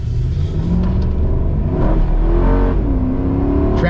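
A quick sleeper daily-driver car accelerates hard out of a U-turn, engine rumbling and rising in pitch through revs, close and loud with no talk.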